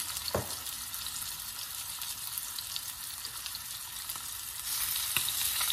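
Fish frying in a few spoonfuls of hot oil, a continuous soft sizzle and crackle with a couple of sharp spits, growing a little brighter and louder near the end, no voices.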